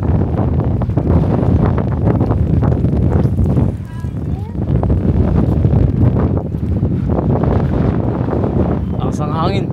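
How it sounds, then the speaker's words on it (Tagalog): Strong wind roars and buffets loudly and constantly at a fishing spot in Melbourne, with brief lulls, and a few voices are faintly heard beneath the gusts. "Lakas ang hangin."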